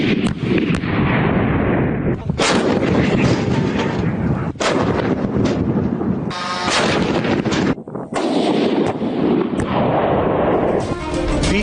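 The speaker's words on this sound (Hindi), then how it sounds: "गोबी डेजर्ट में ट्रेनिंग के दौरान रिकॉर्ड किए गए इस वीडियो में सिर्फ और सिर्फ धमाकों की आवाजें हैं।" Heavy, loud barrages from several types of artillery firing during Chinese military training in the Gobi Desert, with dense overlapping booms and blasts rolling almost continuously, broken only by a few brief gaps.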